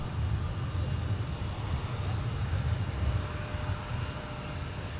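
A Delta airliner takes off from runway 17 at Minneapolis–Saint Paul airport, heard as a steady, fairly distant low engine roar and rumble lasting the whole stretch, with no speech over it.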